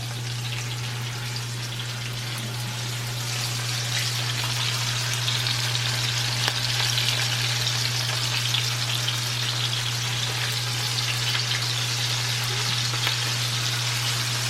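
Chicken frying in a pan makes a steady loud sizzle and spatter, with a constant low hum underneath and a few faint knocks as pieces are turned.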